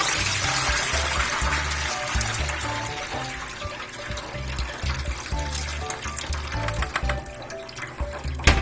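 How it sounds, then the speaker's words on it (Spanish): Water running and splashing steadily as soaked beans are drained in a kitchen, a continuous close trickling and pouring that holds for several seconds, with no talking. "Entonces vamos a escurrirlos nuevamente. Bien, pues vamos a escurrirlos."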